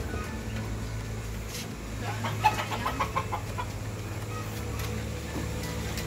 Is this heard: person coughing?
no